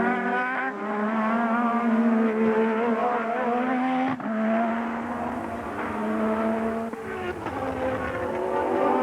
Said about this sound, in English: He's only a couple of tenths slower than Prost, and he, like Prost, is going quicker and quicker